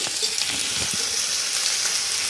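Chicken frying in a pan fills the space with a loud, steady, close sizzle and hiss, with faint stirring knocks underneath and no talking.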